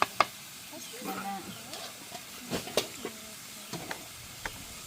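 Spinach greens fry in a pan, a faint sizzle under a few spoon clinks and stirring scrapes, with a voice talking in between.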